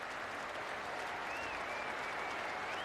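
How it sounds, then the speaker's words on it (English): A cricket crowd at Eden Park in New Zealand applauds a batsman's century in a 1992 Australia match, a steady, even wash of clapping from a distant stand that lasts throughout without pause. "And the New Zealand crowd here at Eden Park very appreciative too of this performance by David Boon."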